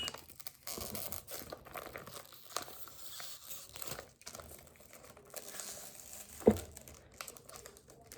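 Plastic face mask packet from Gratis being torn open with crinkly crumpling throughout and one sharp rip near the end, close and fairly quiet.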